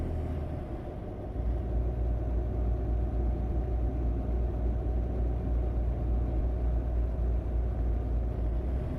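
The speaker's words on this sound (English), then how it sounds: "like the truck looks really loud" A loud, steady low engine rumble of a truck in the video game American Truck Simulator, droning continuously after a brief quieter start, with no talking.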